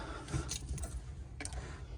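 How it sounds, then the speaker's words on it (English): A set of car keys jangles faintly in a few light metallic clinks over a low, steady background rumble in a garage during a fresh car build. "Dug up the keys."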